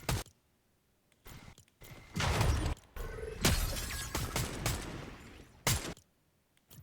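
Gunfire in a video game, a series of sharp cracks and bursts of rapid shots with crunchy, shattering impacts, clustered in the middle of the clip between quiet gaps, with no voices heard.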